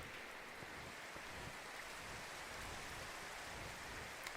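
Rain falls in the Minecraft video game as a faint, steady, even hiss throughout, with no voices or other distinct sounds.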